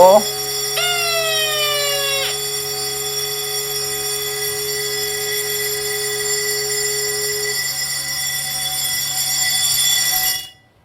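A loud electronic fire alarm, set off by a fire detector during a fire-protection equipment training demo, sounds a continuous high-pitched tone after a brief rising chirp, ringing steadily for several seconds before cutting off.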